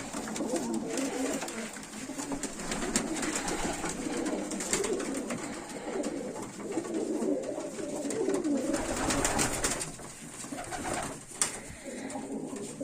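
Broad-tailed pigeons coo repeatedly in low, throaty murmurs, several birds overlapping continuously at close range with occasional wing or rustling sounds.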